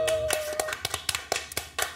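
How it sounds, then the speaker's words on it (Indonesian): A small podcast audience claps for a guest after an esports episode, a sparse handful of hands producing separate sharp claps at an uneven rhythm, fairly close and modest in volume after a voice trails off at the start. "Beri tepuk tangan dong buat Wilbert."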